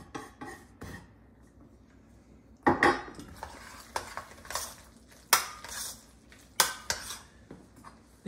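A spoon stirs cheese into risotto in a pot, making scraping, clinking knocks against the metal at irregular intervals over a quiet background with faint sizzling.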